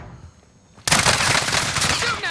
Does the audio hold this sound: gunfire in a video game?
yes